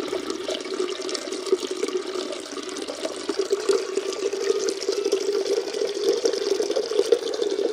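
Fermented home-brewed beer drains into a container in a steady, continuous liquid rush and trickle, close and even in level throughout, with no talking.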